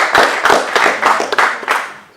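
Applause for a panel of speakers: an audience claps close and fairly loud in an irregular burst that tapers off after about two seconds.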